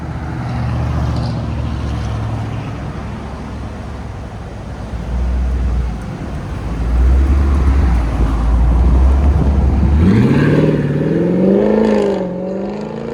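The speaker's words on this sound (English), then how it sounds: "Durango SRT. Fully straight pipe." A 2022 Dodge Durango SRT with a 6.4L HEMI V8 and fully straight-piped exhaust rumbles deep and loud at idle, swells with blips, then sweeps upward in a rising rev near the end.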